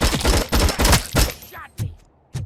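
Gunfire in RoboCop: Rogue City on PS5: a loud, close run of rapid shots fired in quick bursts, followed by two sharp, isolated single cracks separated by short pauses.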